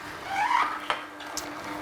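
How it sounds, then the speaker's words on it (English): A juicer squeezes and presses half-moon slices of beetroot, giving a short, close squishing, squeaky grind that swells and fades. A faint click and a light clatter follow over a steady low motor hum. "as the juicer is squeezing and pressing, that's when you're hearing that noise from the ingredients"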